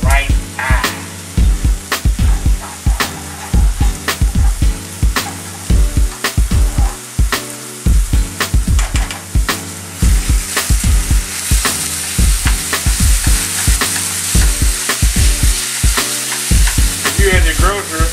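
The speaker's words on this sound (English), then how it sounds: "While the ground beef is browning" Ground beef browning for chili in a pan, a loud close sizzle with rhythmic scraping strokes of a spatula repeating throughout, no voices.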